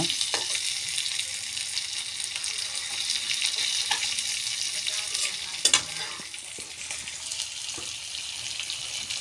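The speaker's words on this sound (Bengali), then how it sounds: "মাছ ভাজতেছি তো দুপুরে খাওয়ার জন্য।" Fish frying in a pan for a home lunch, a steady close sizzle with occasional clinks and stirring knocks, with no talk over it.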